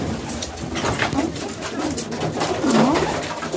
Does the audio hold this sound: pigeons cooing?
yes